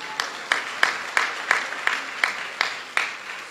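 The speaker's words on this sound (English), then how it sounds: "A round of applause for him," Audience applause for the poet Cherno Gay at a graduation ceremony in the Gambia comes as a thin run of sharp, evenly spaced claps, about three per second, moderately close.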